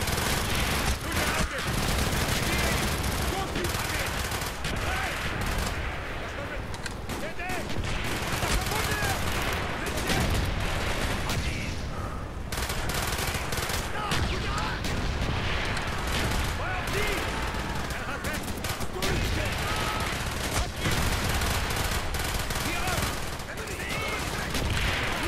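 Rapid PPSh submachine gun fire in Call of Duty Black Ops, dense and continuous with heavy battle noise throughout, sustained loud chatter of automatic shots.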